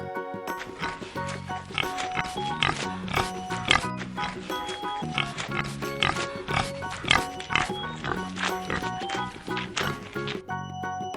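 Warthog grunting, a series of rough grunts and snorts set against a busy, dense music bed that runs throughout.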